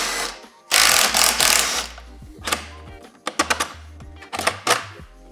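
A 16 mm socket and 15 mm wrench work loose the ski bolts on a Ski-Doo/Lynx snowmobile, giving close, loud bursts of metallic ratcheting and clanks separated by pauses.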